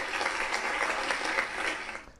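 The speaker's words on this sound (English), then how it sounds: "you know exactly why I'm getting a round of applause right now" Applause for the host of a football podcast, a dense steady wash of many hands clapping throughout, fading slightly at the very end.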